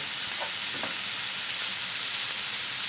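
Ground meat frying with onions in a pan, a constant bright hiss of sizzling fat with a couple of soft stirring scrapes near the start.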